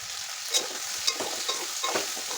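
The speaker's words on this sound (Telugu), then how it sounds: "బెండకాయలు వేసి సాల్ట్ వేసి కలిపేసుకోవాలి" Okra pieces with salt tossed in a pot make a faint sizzle, with several soft scraping stir strokes spaced irregularly and no voices.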